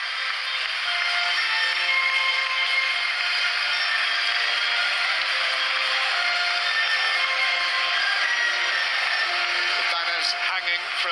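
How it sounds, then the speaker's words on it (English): A football crowd at Goodison Park stadium during Everton vs Arsenal, a dense continuous roar of massed voices with rustling and clatter, steady and loud throughout without a clear single voice. "This is the sound of Goodison Park."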